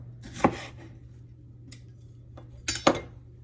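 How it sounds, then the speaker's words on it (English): Peppers are chopped on a board for a quinoa salad, a few sharp knife knocks spaced well apart, with a pair of close strikes near the end over a quiet room hum. "So I'm just gonna finish chopping these up."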